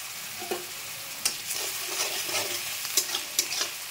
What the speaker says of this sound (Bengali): পেঁয়াজ বাটাটা খুব ভালো করে তেলের সঙ্গে কষে নিতে হবে।